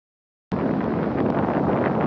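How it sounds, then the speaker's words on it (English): Strong wind buffets the microphone on the exposed coast at Flamborough Head, beginning abruptly after a moment of silence and continuing as a loud, steady rushing roar with no voices. "it was still really windy"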